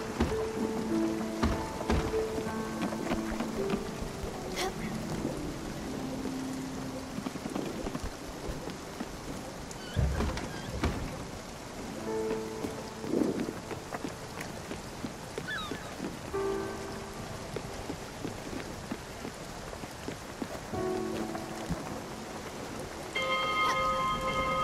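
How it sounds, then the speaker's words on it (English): Steady rain falls in the video game Spiritfarer, a continuous soft hiss of drops that lasts throughout, mixed with gentle tonal game music and a few brief low rumbles. "Rain really ruins the day, doesn't it?"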